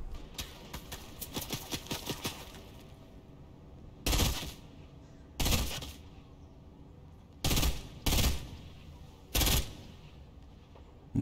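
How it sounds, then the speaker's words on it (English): Gunfire in the video game Fortnite: a rapid burst of shots at first, then several separate loud, sharp shots spaced a second or so apart, with no talk. "Somebody's shooting at me."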